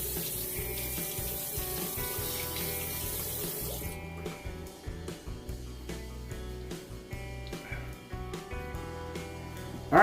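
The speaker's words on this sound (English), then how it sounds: "We're just going to go ahead and throw some cold water on our head here." Water running at a bathroom sink as cold water is splashed onto a freshly shaved head after a shave with a Parker 69 CR razor; a steady splashing flow sits under a faint tonal background, shifting in texture partway through.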